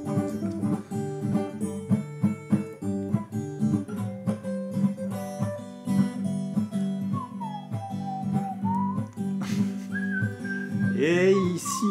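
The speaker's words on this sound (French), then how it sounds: "Et il siffle et tout, quoi." A person whistles a bright, wandering tune in short melodic phrases, the notes gliding and wavering, sounding close and fairly soft above faint background noise.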